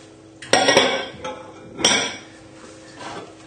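Butter dropped into a food processor bowl while making shortbread biscuits, giving a couple of close, sharp clatters of the bowl and utensils with softer knocks between them.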